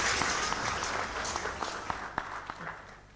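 Audience applause at the close of a livestreamed startup pitch presentation: a steady, moderately quiet patter of many hands with a few sharper individual claps standing out, continuing evenly to the end.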